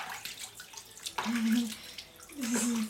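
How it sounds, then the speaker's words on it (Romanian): Water splashes and pours into a baby's bathtub in bursts, close by, with people talking and a voice over it. "Dai cu apă."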